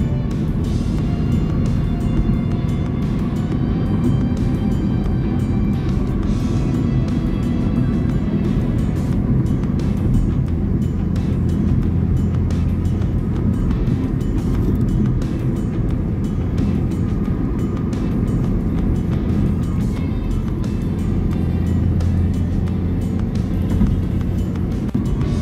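A car cruising on the newly opened Cisumdawu toll road in Indonesia, with a steady low rumble of engine and road noise filling the cabin from start to finish, no talk heard.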